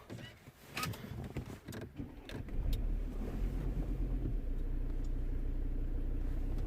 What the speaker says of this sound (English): Let's start the engine now.